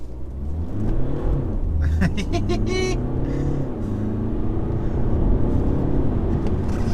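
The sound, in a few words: BMW 220d accelerating from standstill on wet road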